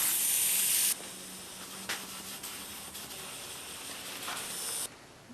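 Compressed air set to 15 psi pushes brake fluid through the brake lines of a 1959 Austin-Healey Sprite, giving a loud opening hiss that drops to a steady, softer airy rush with a couple of brief bursts, close by.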